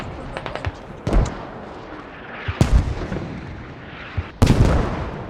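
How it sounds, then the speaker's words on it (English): Mortar fire in a video game skirmish: several sharp, loud blasts spaced a second or more apart, with quieter distant thumps and rumbling between them. "There are to be called mortars right now."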